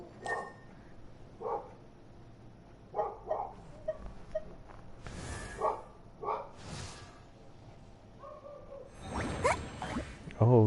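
Dogs in the video game Genshin Impact give several short scattered barks and yips at moderate volume over quiet game ambience.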